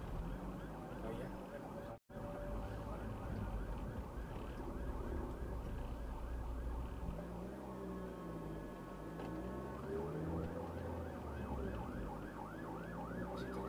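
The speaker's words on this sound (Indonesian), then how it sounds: "Dengar tuh suara sirine kepada kebakaran." A fire truck's wailing siren sweeps up and down repeatedly amid heavy traffic rumble, growing more prominent in the second half, with a brief cut early on.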